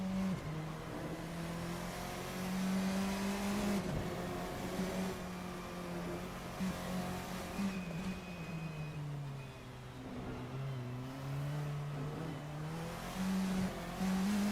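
Formula 4 race cars at Estoril in a sim race, a continuous engine drone that rises and falls in pitch through gear changes and corners, with faint tyre scrub and a commentator talking over it.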